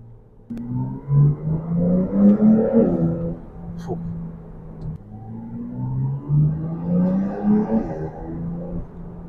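A 2024 Porsche 911 Turbo S accelerating, its engine rising in two loud, close revving surges of climbing pitch separated by a brief dip, with no talk over it.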